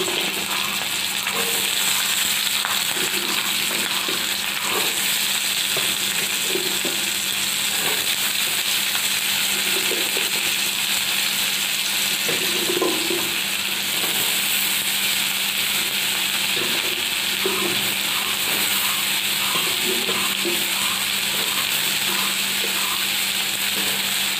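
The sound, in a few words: potatoes frying in oil with chilli and bay leaf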